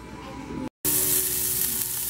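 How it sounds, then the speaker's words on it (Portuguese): Bacon frying in a pan for crispy bits to go into seasoned beans, a loud, continuous close sizzle with a brief cut partway through and no talking. "Bacon fritando."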